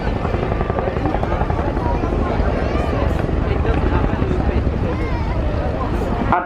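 A Chinook helicopter flying its display routine at the RIAT air show, with a loud, continuous rotor roar and steady beating throughout, under a commentator's voice.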